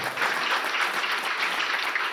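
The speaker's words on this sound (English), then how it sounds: "give him a round of applause." Audience applause at a hip-hop honors induction ceremony, a dense steady patter of many hands clapping throughout, fairly close and continuous with no talk.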